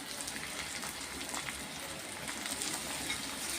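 Ginger garlic paste hits hot oil in a pan while a beetroot poriyal is being made, giving a steady, close, soft sizzle and crackle with no talking.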